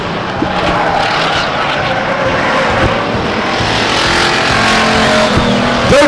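Race cars circle the oval at Stockton 99 Speedway, engines roaring continuously with a loud, dense broadband drone and occasional tire squeal as the pack passes, no voices audible.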